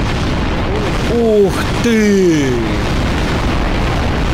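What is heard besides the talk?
explosions in video game Garry's Mod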